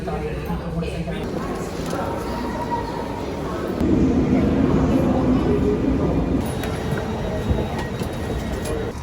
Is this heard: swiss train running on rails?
yes